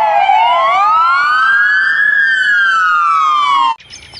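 Toy American police car siren wailing alone in a loud, steady electronic rising-and-falling sweep that climbs slowly, then dips, before cutting off abruptly near the end.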